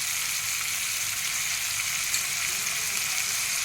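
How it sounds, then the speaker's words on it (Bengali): Ginger paste sizzling and frying with boiled tomatoes in a pan, a steady bright crackle that stays even and close throughout with no voices. "ভালো করে আদাটাকে ভেজে"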